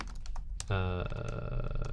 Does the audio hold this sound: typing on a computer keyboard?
yes